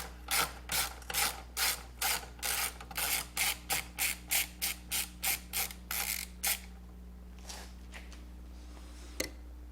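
A hand ratchet loosening a 14 mm battery hold-down bolt on a Corvette: a run of about twenty quick, evenly spaced clicking bursts, close and fairly quiet, stopping partway through, followed by a few faint scrapes and a single sharp tick.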